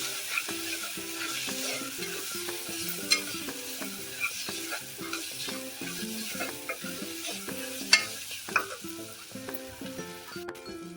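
A spoon scrapes steadily around a pan, stirring half a spoon of turmeric into chickpea usal being cooked in a pressure cooker; the stirring is rhythmic and close, with soft sizzling underneath and no voices.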